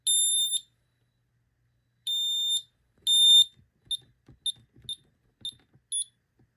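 An Ademco 6139 alarm keypad sounds its fire alarm: three long, loud high beeps at a steady pitch, then a run of short beeps, with faint background noise between the tones.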